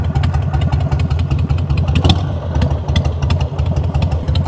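A Harley-Davidson Sportster 883 XL Custom motorcycle engine runs loud and close, with a steady, throbbing low rumble and rapid uneven pulsing that swells slightly midway.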